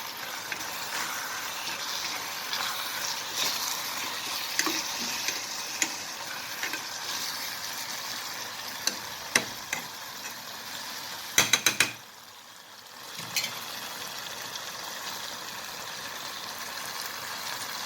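A spoon stirs gram flour into Kathiyawadi tindora curry in a hot pan, making a steady close sizzle with soft scraping strokes. A few sharp metallic clatters come near the end, followed by a brief dip in the sizzle.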